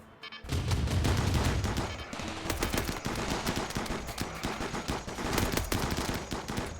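Colonists fire guns during a raid in RimWorld, a loud sustained barrage of overlapping rapid shots and machine-gun bursts that runs almost without pause.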